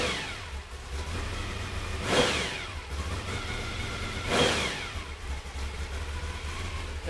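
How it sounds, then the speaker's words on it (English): Chevy 355 engine with a tunnel ram intake, running on a shop stand, idles with a steady rumble and gets two quick throttle blips that swell into brief revs before settling back. "Watch the throttle response. That's just hitting the throttle a little bit."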